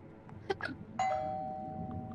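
Doorbell chime in the video game Twelve Minutes, a bright ding-dong tone ringing out and sustaining for about a second, preceded by a couple of soft knocks or clicks.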